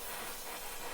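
Torch flame heating a stuck part in a workshop, a steady broad hiss, close and fairly faint, heard alone for a brief moment.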